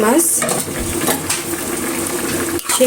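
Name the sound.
shing fish added to bubbling tomato curry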